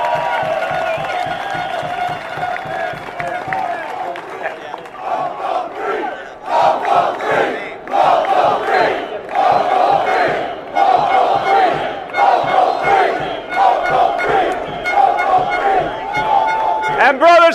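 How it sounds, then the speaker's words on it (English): Union workers at a rally applaud and cheer for their leader, loud rhythmic clapping and whoops rising in waves and continuing for many seconds, with shouting voices mixed in. "Give this man a round of applause for standing up to Charter Spectrum."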